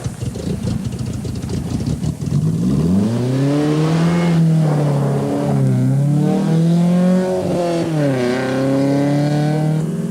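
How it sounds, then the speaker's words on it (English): Rally cars on a 1985 Zimbabwe rally stage head back toward Harare at dusk, one engine revving up loudly and climbing through the gears, holding a steady, sustained drone close by with rising and falling pitch. "As dusk falls, the 17 surviving cars head back for Harare"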